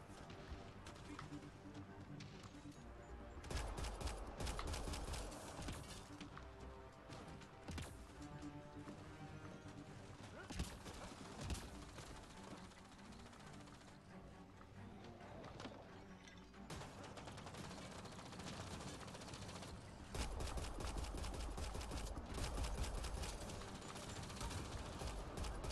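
Gunfire and combat effects from the game Mass Effect: Andromeda form a dense, continuous wash of shots, crashes and mechanical clatter over a steady music bed, with a brief voice partly buried in the mix.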